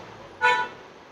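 A single short car horn toot rings out, moderately loud and near, lasting about a quarter second over a quiet background hum.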